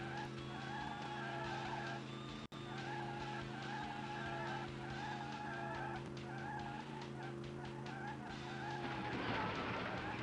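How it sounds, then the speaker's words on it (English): Warbling, wavering tire screeches from a retro video game car race sound repeatedly over a steady synthesized engine drone, fairly quiet throughout, with a sharp click early on and a noisier burst near the end. "Gotta love them tire screeching sounds."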